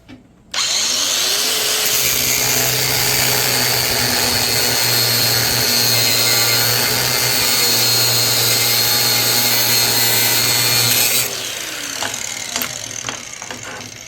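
A SEESII brushless cordless angle grinder grinds a bevel into steel, producing a loud, close, sustained high whine for about ten seconds before spinning down, followed by a few faint clanks.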